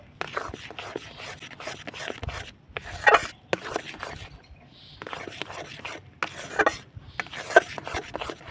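A utensil stirs and scrapes powdered milk dough in a pan while sandesh is made, giving repeated soft rubbing strokes in bursts separated by brief pauses, close by and fairly quiet.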